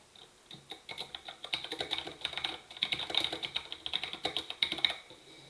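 Rapid keystrokes on a computer keyboard, a steady run of light clicks at close range during a classroom session, with no talking over them.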